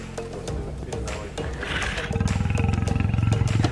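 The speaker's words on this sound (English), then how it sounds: "Look at these lions right on the road." Lions right on the road beside a safari car in the Masai Mara, giving a loud, close rhythmic roaring with pulsing grunts that build toward the end, mixed with low vehicle rumble.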